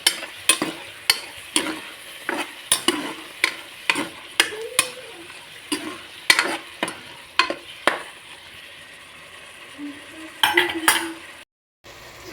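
Spoon stirring egg biryani masala with garam masala in a pan, a steady series of scraping clinks and knocks against the metal over a low background sizzle, near and alone.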